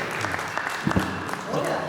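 Applause from the audience cheering both teams, Team Makhdoom Mohiuddin and Team Niaz Gulbargvi, at a final contest, brief clapping mixed with voices and crowd noise in a live hall.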